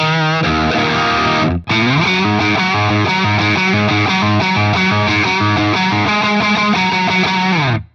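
Electric guitar played through a Line 6 Helix with room reverb and a Horizon noise gate, a loud distorted riff of chugging chords with a brief cut to silence where the gate closes, then the playing resumes.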